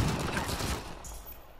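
Gunfire in a video game, a dense rattling fusillade of rapid shots that starts loud and close and tapers off toward the end.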